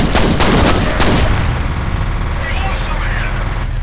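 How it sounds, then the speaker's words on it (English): A grenade blast in the shooter game F.E.A.R. lands loud and close, with a burst of sharp percussive impacts at the start that fade into a rumbling, noisy tail. "Grenade killed me."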